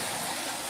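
River flowing through a park, a continuous broad rushing wash of water, fairly faint and steady, with no talking over it.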